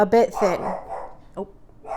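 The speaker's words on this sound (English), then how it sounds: "that was my dog confirming that." A dog barks several times, close and loud, in short sharp bursts mixed in with a person talking.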